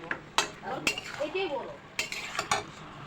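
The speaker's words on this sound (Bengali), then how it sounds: "তো এখন মোমোগুলো সব দিয়ে দিচ্ছি, এখন একসঙ্গে নাড়াচাড়া করে নেব" A spoon stirs momos through chicken gravy in a pan, giving soft scrapes and a few sharp metal clinks against the pan, spaced irregularly over a quiet kitchen background.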